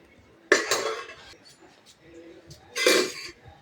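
A lid goes onto a cooking pot, giving two sharp metallic clanks a couple of seconds apart, close and distinct against a quiet kitchen.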